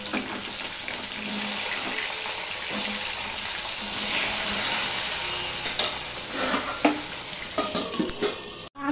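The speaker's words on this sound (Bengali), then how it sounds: "এবার আলুগুলো আমি ভেজে নেব।" Potatoes fry in oil for a chicken curry, a continuous close sizzle with occasional stirring scrapes and clinks that grow more frequent toward the end before a sharp final knock.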